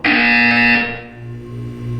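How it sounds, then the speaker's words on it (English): A buzzer from the video game Portal 2 blares loudly and steadily for about a second, then trails off into a fading electronic tone. "You will hear a buzzer."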